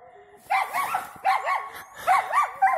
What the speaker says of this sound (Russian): Собаки загнали очередного соболишку.